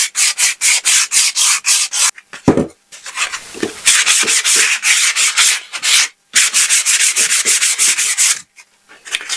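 A sanding sheet is rubbed by hand over wood on a boat's stern arch. The strokes make loud, close, rhythmic scrapes in fast runs, broken by a few short pauses, with no talking.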